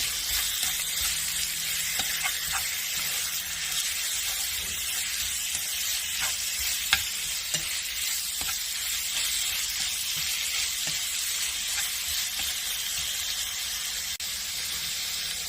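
Beef with lemongrass stir-frying in a pan, a steady moderate sizzle and crackle with occasional spatula scrapes and stirring clicks, no voices.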